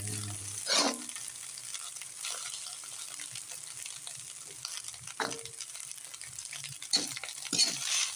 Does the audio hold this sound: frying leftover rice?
yes